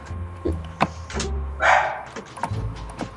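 A pet dog barking indoors, a few loud close barks and yips at irregular moments, with other noises in between.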